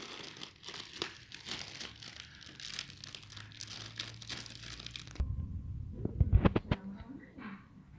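Oreo cookies crushed inside a plastic bag, a burst of close, loud crinkling and crunching plastic rustle near the end, after a stretch of quieter handling noise.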